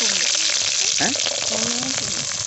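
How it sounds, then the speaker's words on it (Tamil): Onion and garlic sizzle loudly in hot oil in a pan, following mustard seeds and curry leaves, a steady dense frying hiss close up with a brief stir partway through; some faint voice sounds mix in. "வெங்காயம் பூண்டு ரெண்டும் வந்து ஒன்றா போட்டாச்சு போட்டு நல்லா வதக்க போகிறோம்"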